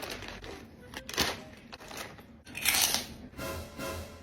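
Crunchy spicy fried squid crackers being eaten: faint, uneven bursts of brittle crunching and chewing, with a few louder crisp bites.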